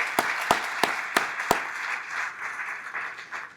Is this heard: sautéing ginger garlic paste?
no